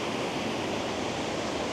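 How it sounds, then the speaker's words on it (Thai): Fossá waterfall in the Faroe Islands, a multi-tiered cascade, produces a constant broad roar of falling water, loud and unbroken, with no voices. "ตอนนี้ก็มาอยู่ที่ น้ำตกฟอซ่านะครับ ซึ่งเป็นน้ำตกที่สวยมาก"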